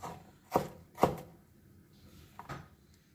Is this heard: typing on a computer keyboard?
no